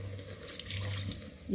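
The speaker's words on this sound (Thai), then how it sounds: "เติมน้ำลงไปเลย" Steady rush of running water filling a pressure cooker pot, close by, with a low hum underneath and no talking.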